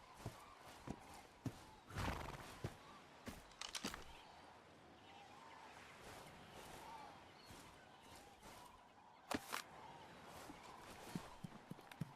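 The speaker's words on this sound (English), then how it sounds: "There's the horse." A horse in the video game Ark Survival Ascended neighs and clip-clops in quiet game audio, giving short bursts of whinny with hoof sounds in between.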